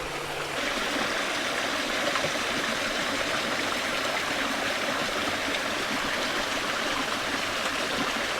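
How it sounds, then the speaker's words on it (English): Water splashes and trickles continuously from a small garden waterfall at Trebah Gardens, Cornwall, a steady rushing wash close by with no voices. "And they've even got their own little waterfall."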